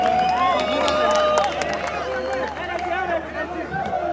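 A large crowd at a summer concert tour kick-off party in Rwanda cheers, whoops and claps, loud and continuous, with voices shouting across the din.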